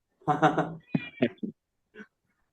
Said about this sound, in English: my cat is saying meow.